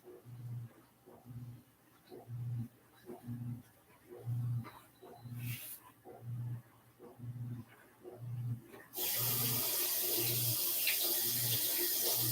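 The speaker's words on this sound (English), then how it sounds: "I need to rinse that paint off my finger." A water tap runs into a sink as paint is rinsed off a finger, with a steady close hiss starting partway through after a run of rhythmic low thumps.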